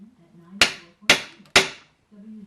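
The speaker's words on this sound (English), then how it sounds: "So I'll just pound on it until something busts." Three sharp, loud hammer blows ring out at steady intervals on a Chevrolet 327 differential being knocked apart, with low background hum between strikes.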